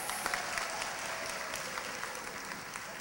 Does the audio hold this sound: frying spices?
no